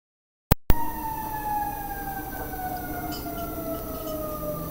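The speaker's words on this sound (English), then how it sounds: "You guys hear the sirens?" Sirens wail outside in a steady, falling tone across several seconds after a sharp bump at the start, sounding fairly distant beneath the room's ambience.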